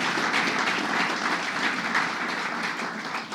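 Audience at a government awards event applauding, dense, continuous clapping from a sizeable crowd that holds steady and tapers slightly at the end.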